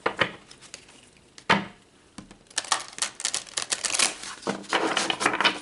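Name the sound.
tarot cards being shuffled and pulled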